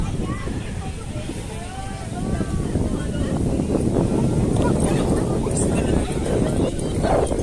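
Wind buffets the microphone in gusty low rumbles while a voice talks and faint background chatter carries outdoors at Heritage Park, Taguig City, on All Saints' Day.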